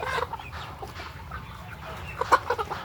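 Chickens on a poultry farm cluck in short, scattered calls close by, with a sharper squawk near the end over a low background hum.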